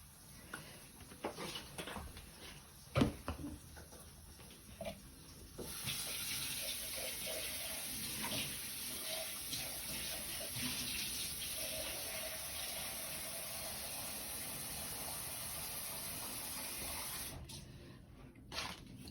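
Hot water streams steadily into a cooking pot with oil while frying chicken, a continuous splashing pour after a few light clinks and taps, close and moderately quiet.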